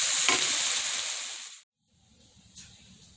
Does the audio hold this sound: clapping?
no